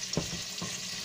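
A potato and peas curry is stirred in a pan over a steady sizzle, with two soft scraping strokes of the spoon standing out near the start and middle. The whole sound is quiet and close.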